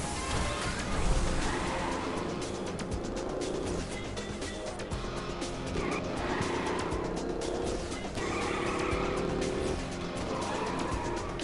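A car driving in LittleBigPlanet, engine droning steadily with occasional tire squeals and skids, a continuous moderate hum with no talk over it.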